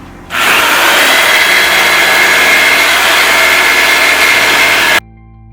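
A power saw whines steadily and loudly while cutting a bat shape out of a piece of wood for a bat house, running continuously for about five seconds before stopping abruptly.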